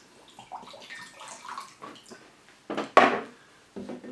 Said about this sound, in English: Of course we have to do a little bit of water in